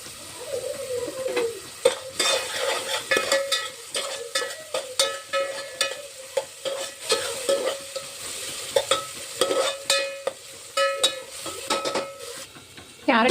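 Carrot pieces sautéed in a pan, continuous sizzling under frequent scraping and clinking strokes of a spatula against the metal, close and busy throughout.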